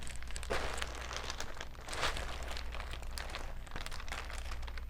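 Plastic bags crinkle and rustle steadily up close with no talking, the dense crackle continuing throughout.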